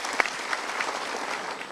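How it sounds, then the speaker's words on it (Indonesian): A studio audience at a motivational talk show claps together, a moderate, even patter of applause with one sharp clap standing out near the start, continuing steadily without fading. "Kita berikan tepuk tangan dulu."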